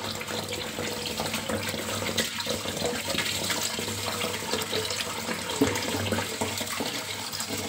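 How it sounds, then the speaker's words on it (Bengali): Tap water running steadily into a pot while rice is washed, a continuous close splashing rush with small clinks and a low hum beneath. "প্রায় 7-8 বার করে আমি চাল ধুই।"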